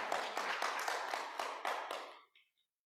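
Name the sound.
congregation applauding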